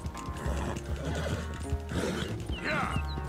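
A horse whinnies and gallops in Red Dead Redemption 2 during a race, with rapid hoofbeats under loud neighing calls, close and continuous.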